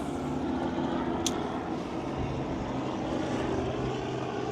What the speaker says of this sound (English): Here comes helicopter, man.